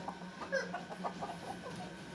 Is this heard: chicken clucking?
yes